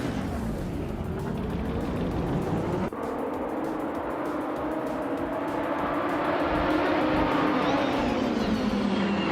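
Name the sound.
1985 Lancia LC 2 race car starting a race, video game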